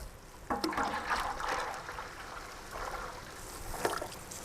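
Sugar syrup pours into a large batch of freshly squeezed watermelon juice, about 100 kg, giving a steady liquid trickle and splash that swells in a few bursts, close by, with no talking.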